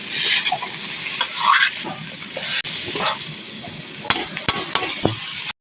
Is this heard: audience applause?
no